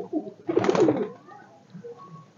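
Madrasi pigeons from a loft coo close by, one strong, rolling burst of cooing rising in the middle, then softer, fainter bird murmurs trailing off.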